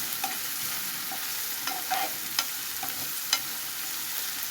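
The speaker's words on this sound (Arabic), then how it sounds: "هنا بقى ايه هقلب كده تقليبة حلوة" Onions frying in a pan with salt are stirred with a utensil, soft scraping knocks and clicks landing irregularly over a constant gentle sizzle.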